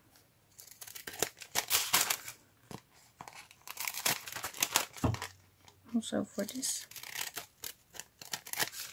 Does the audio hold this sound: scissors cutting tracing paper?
yes